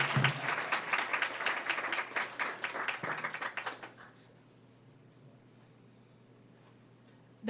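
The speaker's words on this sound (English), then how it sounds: "One more round of applause for Dr. Green" Audience applause at an evening school board meeting, a dense burst of clapping that fills the room for about four seconds, then stops abruptly, leaving quiet room tone.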